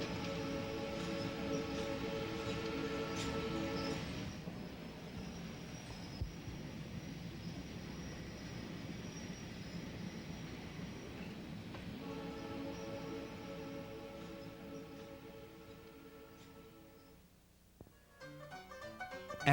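A train in Southeast Alaska travels along a steep gorge, rumbling steadily with a low droning tone that fades and returns, ending in faint rattling clicks.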